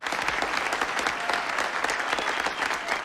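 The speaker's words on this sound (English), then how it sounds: "He got a round of applause, too." A dense round of applause from a crowd in a scene of the 1993 western Tombstone rolls on steadily at a moderate distance, unbroken for its whole length.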